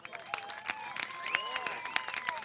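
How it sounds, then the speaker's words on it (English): Crowd of kids and families clapping outdoors at a golf kids clinic, scattered sharp claps with a few cheers and high voices mixed in, moderately close. "How about a round of applause again for Dan Beaver?"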